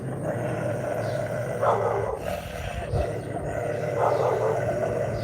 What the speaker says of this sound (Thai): พี่เขาไปเห่าอะไรนู่นน่ะ